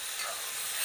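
Onion sautés in a pan with garlic, pepper, fennel, cloves and bay leaf for paneer masala, a steady, soft frying hiss through the brief moment.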